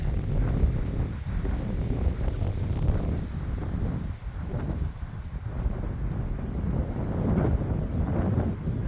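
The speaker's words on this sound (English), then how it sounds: "I know the wind's blowing." Steady wind buffets the microphone on a smoky mountain section of the Colorado Trail, a continuous loud rumbling roar with gusty swells and no voices.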